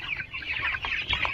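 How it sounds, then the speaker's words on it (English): Cornish cross meat chickens, one to two weeks old, cluck and chirp in a farm pen, a close, busy chorus of short overlapping calls. "this is our latest batch of meat chickens, Cornish cross"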